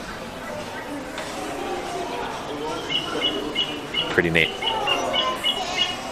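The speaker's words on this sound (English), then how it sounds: "You can hear that bird of prey right there." Recorded bird calls, including a bird of prey, play in a natural history museum exhibit in Salt Lake City, with faint, repeated high chirps over room noise and a brief spoken remark.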